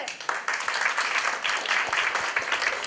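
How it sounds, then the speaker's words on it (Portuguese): Brief burst of audience applause at a café customer-service forum in Brazil, dense clapping held steady for a few seconds with no voices on top. "Palmas também."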